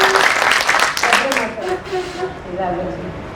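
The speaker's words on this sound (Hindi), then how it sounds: "मैं चाहती हूँ घायल गाजीपुरी साहब के लिए बहुत जोरदार तालियां हो।" A mushaira audience at an Allahabad poetry gathering claps in a brief, dense burst that quickly thins, with a voice speaking over the fading applause.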